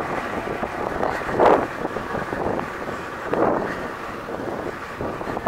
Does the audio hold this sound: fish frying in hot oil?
no